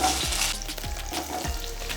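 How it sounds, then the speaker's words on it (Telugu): Cut potatoes frying in oil in a pan for an aloo brinjal curry, a continuous close sizzle with several dull thumps of stirring spaced through it, no talking. "ఇప్పుడు మనం ముందుగా కట్ చేసుకొని పెట్టుకున్నాం కదా బంగాళదుంపలను కూడా ఇందులో వేసుకుందాం."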